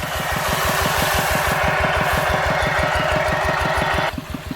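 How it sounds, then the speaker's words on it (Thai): A Kubota single-cylinder 9.5 hp engine driving a water pump idles without throttle, a loud, close, steady rhythmic thumping chug that runs evenly before dropping off slightly near the end. "แต่ว่ายังไม่ได้เร่งเครื่องนะครับ ในรอบเดินเบานะครับ"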